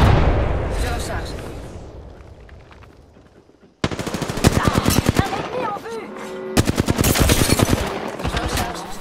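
Rapid automatic gunfire from Apex Legends, loud bursts crackling in dense volleys after a brief lull, with a player talking over the shooting.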